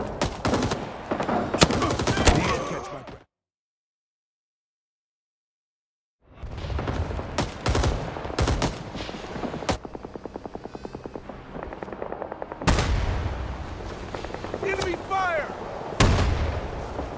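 Heavy gunfire in Rising Storm 2: Vietnam, with rapid automatic bursts, booming shots and a droning helicopter-like rumble, loud and close, broken by a few seconds of total silence, with voices talking amid the shooting.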